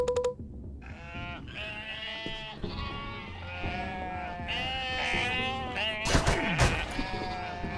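Sheep in the video game UNmetal bleat in overlapping wavering cries, close and continuous, with game sound effects and a sharp burst of noise near the end.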